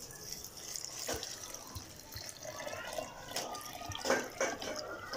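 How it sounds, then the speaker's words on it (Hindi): Half a jug of water is poured in for peach sharbat, a close, continuous splashing gush with bright trickling and dripping throughout. "हाफ जग का पानी हम लोगों ने इसके अंदर ऐड कर दिया।"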